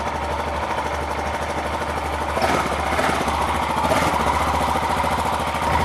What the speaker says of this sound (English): So I'll let the bike run and then we'll test the temperatures on these.